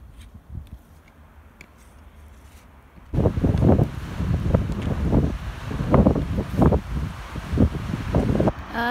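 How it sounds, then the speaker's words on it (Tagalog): Strong wind blows through a garden, faint and calm at first, then sudden loud rumbling gusts buffeting the microphone and rushing on for several seconds. "Ay, grabe ang hangin."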